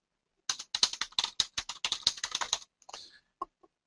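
A computer keyboard is typed on in a quick burst of close, crisp keystrokes, roughly twenty taps in two seconds, trailing off into a few scattered clicks.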